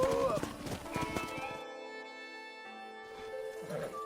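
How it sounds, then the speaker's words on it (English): Horse hooves clip-clopping in Red Dead Redemption on PS5, a quick run of close hoof beats that stops for a quiet stretch and resumes faintly at the end, under game music and a speaking voice. "We got some fine horses."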